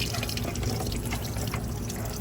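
Water drains steadily out of a cooling line on a Ford Crown Victoria, making a continuous splashing, trickling pour close by.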